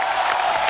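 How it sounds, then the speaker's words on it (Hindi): A crowd at an entertainment event cheers and claps for a Nigerian singer, a short, loud, unbroken roar of applause. "जोरदार तालियां होनी चाहिए."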